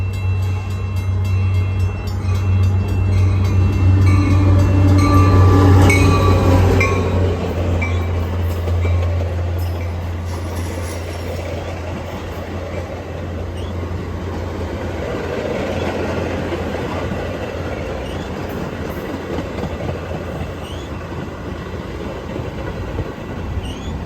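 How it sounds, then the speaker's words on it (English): An outbound Metra commuter train led by an F59PH diesel locomotive passes close and loud, with a heavy engine drone building to a peak, then rolling wheels rumbling as the cars go by and fade. "Our first train in Bartlett would be an outbound Metra number 2711, with Metra number F59PH number 98 leading the way."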